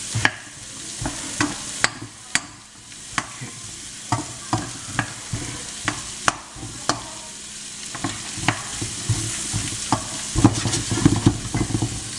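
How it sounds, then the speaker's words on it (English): Food sizzles steadily in butter in a frying pan, with a spatula scraping and tapping the pan in a regular rhythm over the constant crackle. "So we're just gonna let these saute"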